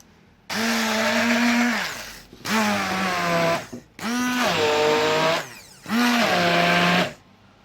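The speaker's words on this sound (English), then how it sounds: "I'm going to use my whizzer" A stick blender whirs loudly through rose petals in four separate bursts of about one and a half seconds each, its motor pitch dipping and rising under the load, with brief pauses between runs.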